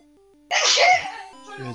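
A single loud, close sneeze bursts out in a room over faint game music, followed by quiet, brief background sound.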